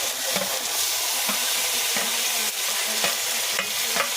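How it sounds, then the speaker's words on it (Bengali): Ginger-garlic paste added to frying onions in a new pan sizzles loudly and steadily, with a spatula repeatedly scraping and knocking at close range and no talking. "পেঁয়াজের পর এখন আমরা দিয়ে দেবো আদা এবং রসুনের পেস্ট।"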